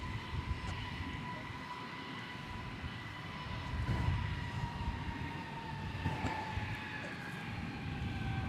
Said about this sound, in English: There goes American Flight 50 to 777 300 ER, and it's going to London Heathrow Airport.